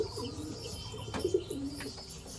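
Pigeons kept for sale in Canning, South 24 Parganas, West Bengal, coo in low, throaty rolling phrases, close by and fairly soft, with no talking.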